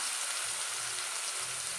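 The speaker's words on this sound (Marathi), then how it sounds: "तो घालून घेऊया आणि छान परतून घेऊया।" Chopped onion sautés with cumin in a hot pan for spinach pulao, giving a steady, soft, hissing sizzle that carries evenly throughout with no voices.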